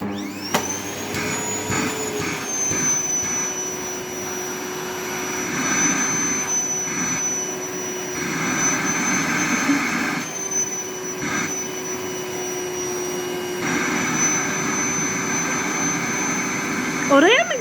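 A toy vacuum cleaner runs with a steady, high electric whine and hum through the whole stretch. A child and an adult talk over it.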